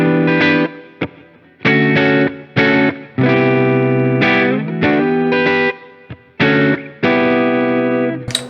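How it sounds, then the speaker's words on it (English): A PRS SE Custom 24-08 electric guitar plays through its neck humbucker on a clean tone, sustained chords in short phrases broken by brief pauses, with chorus-like shimmer and no talking. "Just the neck pickup first of all in a clean tone humbucking."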